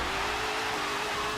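A 2018 Dodge Demon racing in Forza Motorsport 7 gives a loud, sustained high-pitched engine scream that holds steady without pause.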